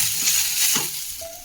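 Black peppercorns and garlic frying in a hot pan give off a brief, steady sizzle, with a couple of soft stirring scrapes close by.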